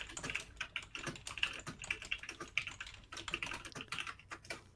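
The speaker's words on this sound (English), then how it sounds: "I don't know if that's me you can hear typing, or if someone else is typing as well." Fast, uneven clatter of keys on a computer keyboard, close and clear, with bursts of taps and brief pauses throughout and no talking.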